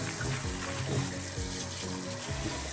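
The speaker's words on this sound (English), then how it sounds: "I just use a colander, and I just wash them very well." Split peas being rinsed in a colander under a running tap, with a steady close-up rush of water splashing over the peas and a faint rattle of the peas throughout.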